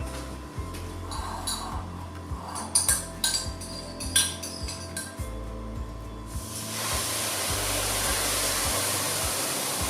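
Liquid dashi stirred in a frying pan over medium heat, with a utensil clinking and scraping against the metal in irregular taps, then giving way to a steady sizzling hiss that fills the last few seconds.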